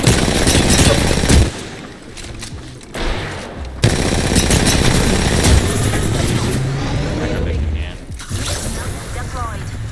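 Dense rapid gunfire and explosive bursts from the Apex Legends video game fill a loud, busy battle mix, with sharp volleys and brief lulls throughout, a whirring engine-like drone underneath, and players talking over the action.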